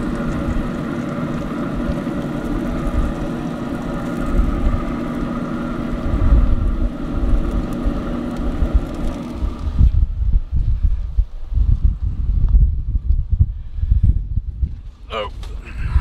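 Strong gusty wind buffets the microphone outdoors beside a pellet grill, a loud, steady rumble that turns choppier and more broken partway through, with a few faint clatters near the end.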